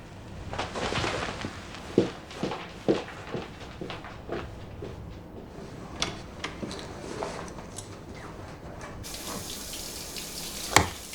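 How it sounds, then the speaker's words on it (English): A hotel-room shower runs steadily as a soft continuous water hiss, with scattered clicks and knocks of movement over it and a brief sharper tap near the end; no talking. "I'll just have a shower."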